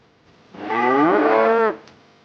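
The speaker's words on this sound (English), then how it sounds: "That's right. It's a cow." A single long, loud cow moo with rich harmonic tone, rising then falling in pitch over about a second, heard clearly and alone against silence.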